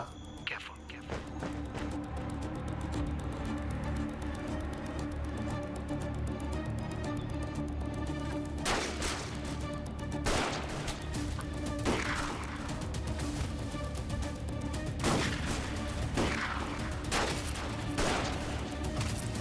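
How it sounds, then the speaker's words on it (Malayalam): Scattered bursts of gunfire from the Tamil action film Viduthalai Part 2 trailer, sharp cracks and volleys at irregular intervals layered over a dense music-and-effects soundtrack, growing more frequent in the second half. "മൊത്തം വെടിവെപ്പാണല്ലേ."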